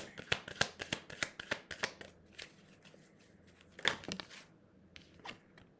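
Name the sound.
tarot cards being shuffled for a card draw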